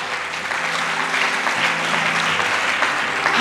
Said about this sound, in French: Alléluia, acclame pour l'autre qui est à côté de toi